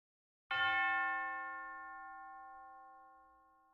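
One glockenspiel note struck once, bright and metallic, ringing clearly and fading slowly into silence.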